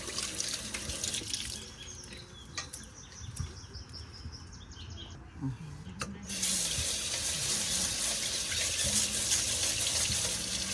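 Water draining and running from a tap into a sink while making bagoong at home, a continuous splashing rush that grows louder and fuller in the second half, with faint clinks and bird chirps in the background.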